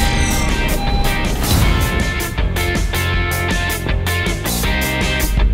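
A Honda HR-V car driving off, heard as a loud, steady motor sound that holds for the whole few seconds with no talking.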